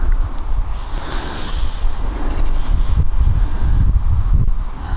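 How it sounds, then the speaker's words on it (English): Wind blows across a shallow carp-fishing swim, a steady broadband rush with gusty swells and low rumbling buffets on the microphone, loud and continuous with no voices. "I'm just going to be careful of the wind."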